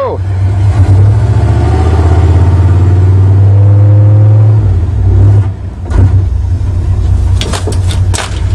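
A 1992 GMC Astro van with a 305 V8 on a cold start runs loud and close, with a rough, uneven idle that rises briefly and then sags as it struggles to rev, while voices talk over it near the end.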